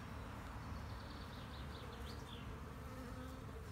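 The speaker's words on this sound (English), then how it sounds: "Chilled out bees." Honeybees buzz in a soft, continuous drone, many insects humming together at a low, steady volume with no voices.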